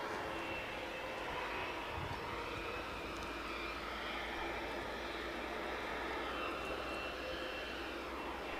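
An aircraft taking off from Edinburgh airport, a steady, broad engine roar heard from a distance and holding constant throughout.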